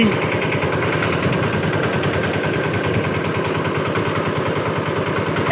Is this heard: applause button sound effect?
no